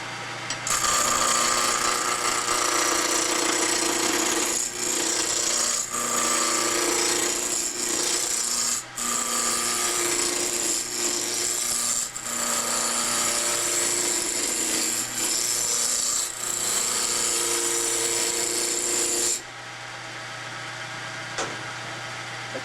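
A large 1.5 inch gouge bears on a spinning wood block on a lathe, rounding it off with a loud, continuous rasping scrape, steady for about twenty seconds before cutting off to the quieter motor hum.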